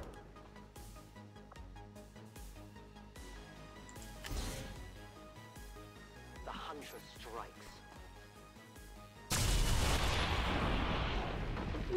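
A sting shot fired in XCOM 2, a loud burst of gunfire at the end over game music, with earlier shorter bursts and a voice talking over it.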